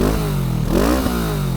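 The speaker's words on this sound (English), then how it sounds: "Let's see the exhaust one last time." A 2024 Kawasaki Vulcan S 650 motorcycle exhaust revving up close, a deep throbbing idle rising into a single throttle blip and settling back, loud and alone.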